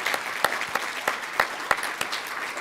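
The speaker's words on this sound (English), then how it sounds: "another round of applause for all their great work in putting this together" A conference crowd at a keynote claps in a loose, steady patter, with individual sharp hand claps standing out against a softer wash of applause for nearly three seconds.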